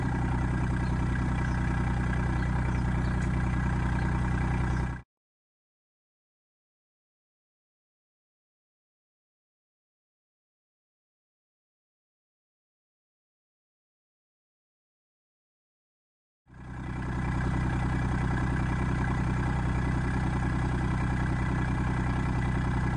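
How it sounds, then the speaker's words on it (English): A steady Kubota tractor engine, hooked to a backhoe, idles loudly for about five seconds, cuts to silence, then resumes its low, even rumble after a long gap. "Now, when we start the tractor up,"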